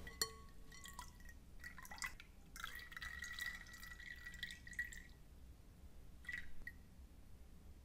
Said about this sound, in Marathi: डाळीतील पाणी अशा पद्धतीने निथळून घेऊया.